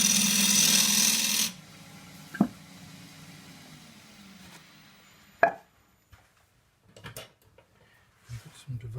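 A 1/2 inch spindle gouge smooths oak on a wood lathe, giving a loud, steady cutting rush that stops after about a second and a half. A few sharp knocks and quiet speech follow.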